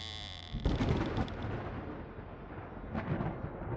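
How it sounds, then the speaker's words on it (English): A thunder sound effect in a horror audio drama: a sudden loud crack and rumble hits a house during a storm, then rolls on as a long, steady roar with a second swell near the end, with no voices. "a blast of thunder rocked the house and disabled the electricity"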